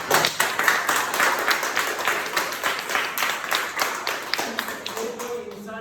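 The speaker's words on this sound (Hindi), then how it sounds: "जोरदार तालियां होनी चाहिए" Dense audience clapping fills the room, loud and fast with distinct individual claps, holding steady before tapering off at the end, with voices talking underneath.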